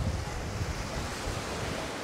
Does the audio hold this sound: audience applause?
no